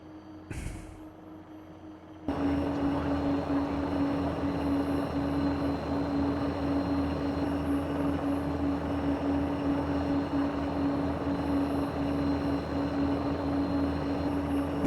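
Jet on a low, slow, dirty pass at a virtual airshow in a flight simulator game, a steady engine drone with a persistent tonal hum that cuts in abruptly after a short quiet lead-in and holds evenly throughout.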